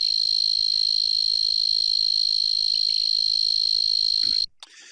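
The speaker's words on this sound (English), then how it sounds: "The blackhorn tree cricket, or Acanthus nigricornis" A male blackhorn tree cricket (Oecanthus nigricornis) sings a steady, loud, continuous high trill that runs unbroken for several seconds before stopping abruptly.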